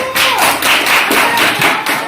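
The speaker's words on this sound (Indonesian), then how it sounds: "silakan tepuk tangan dulu, please" Hands clapping in a class presentation, a close, brisk run of rapid claps in a steady rhythm that continues without pause for about two seconds, with no talk over it.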